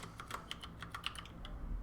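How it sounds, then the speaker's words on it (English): Quiet typing on a computer keyboard: a quick, uneven run of light key clicks, close and soft, with no talking. "What am I typing?"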